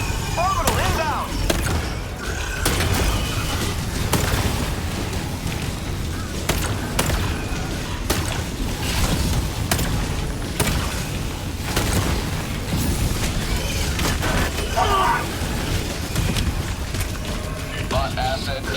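Orbital strike explosions from the video game Helldivers 2 boom repeatedly in dense, loud succession, with heavy low rumble, sharp bursts and mechanical clatter running throughout.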